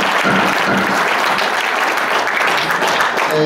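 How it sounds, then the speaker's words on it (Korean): A dense burst of applause from a room full of people at a tennis associations' merger general assembly, approving a motion; loud and continuous throughout. "네, 박수로 하겠습니다."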